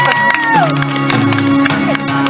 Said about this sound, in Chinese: 给我们所有工作人员热情的掌声